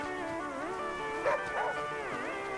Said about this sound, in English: Dog found something.